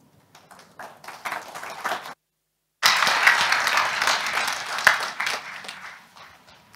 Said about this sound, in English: it's such a lousy round of applause you give.